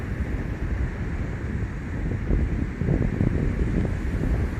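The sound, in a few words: wind on a December beach in Rethymno, Crete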